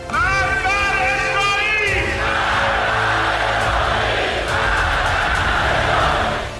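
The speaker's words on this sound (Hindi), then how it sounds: "जनरल का जनाजा तेहरान की गलियों में निकाला गया, जिसमें मौजूद भीड़ ने इजराइल की बर्बादी की कस्में खाई हैं" A dense crowd at a general's funeral procession through the streets of Tehran shouts in unison, a rising chant giving way to a loud, sustained roar of massed voices that fills the whole stretch.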